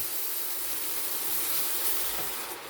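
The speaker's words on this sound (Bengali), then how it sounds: "ভালো করে এই যে মশলাটা ভাজা ভাজা হয়ে গেছে, এর মধ্যে আমি অল্প করে জল দিয়ে দিচ্ছি।" Water poured onto fried spice masala in a hot pan for rui posto, giving a steady hissing sizzle of steam that stays fairly even and moderately loud throughout.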